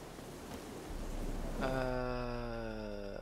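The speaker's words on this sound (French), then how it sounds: "c'est la pluie qui chante" Steady hiss of rain pattering on a surface in The Witcher 3 video game, joined midway by a sustained tonal hum with harmonics, like game music or an ambient drone.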